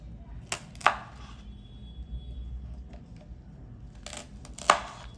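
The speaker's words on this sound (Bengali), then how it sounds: "ডাঁটাটা আমি কেটে খোসাটা ছাড়িয়ে নেব।" A knife chops through drumstick stalks (sojne data) on a board: a few sharp, separate cuts near the start, a quiet pause, then two more crisp chops near the end, close and fairly clear over low room hum.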